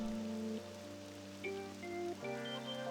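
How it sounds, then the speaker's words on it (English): Heavy rain pouring in the video game Persona 5 Royal, a steady hiss of rainfall under a soft looping melodic music track with no talk. "It's really pouring down, isn't it?"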